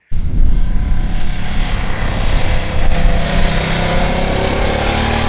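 A 2026 Ducati DesertX V-twin motorcycle engine roars loudly and continuously, a gruff broadband rumble that swells slightly as the throttle opens.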